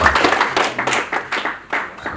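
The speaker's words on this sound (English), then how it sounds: "Please, let's clap for ourselves one more time." A crowd applauds at a business launch event, steady dense clapping from many hands filling the whole stretch with uneven swells, fairly close and loud.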